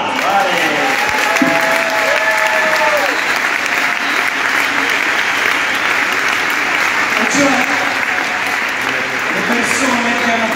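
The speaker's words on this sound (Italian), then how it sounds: "Un applauso." Sustained applause from a large crowd at a Take That concert at Unipol Arena, Bologna, steady and loud throughout, with a faint voice briefly audible beneath the clapping.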